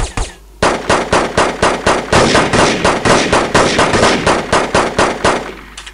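Gunfire in the video game Devastation comes as a loud, steady burst of evenly spaced shots, about two dozen in a row, after a brief quiet start, then stops abruptly.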